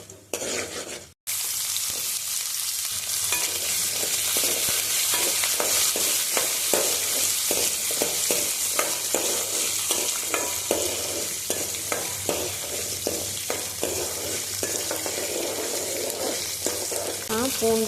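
Ingredients for onion chutney sizzle and fry in hot oil in a pan, with a steady crackling hiss and repeated scraping stir strokes against the cookware, starting after a brief quiet moment.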